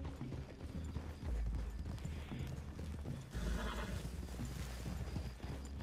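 Horse hooves clip-clop at a walking pace in the video game Red Dead Redemption 2, with a horse whinnying and snorting nearby over a quiet outdoor background.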